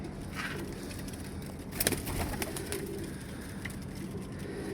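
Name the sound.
pigeons cooing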